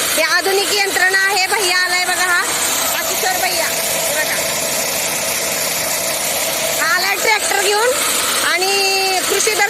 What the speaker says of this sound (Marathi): आता ज्वारी पॉलिश करण्याचं काम चालू आहे